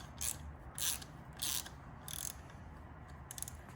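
A ratchet tightens a nut on an Errex damper mount of a Dualtron Thunder electric scooter: four or five short bursts of quick clicking, close but faint, with quiet gaps between them.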